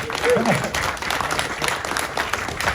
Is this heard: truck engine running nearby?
no